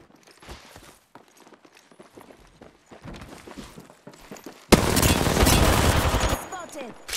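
Sustained automatic gunfire in a video game, a loud dense burst lasting well over a second after quieter footsteps and scattered shots, with speech faint in the background.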